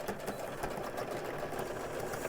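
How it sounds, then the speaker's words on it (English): A sewing machine stitching a throw pillow seam, a fast steady mechanical whirring rattle running continuously, close and fairly quiet. "We're just going to sew this up from the very end of the seam."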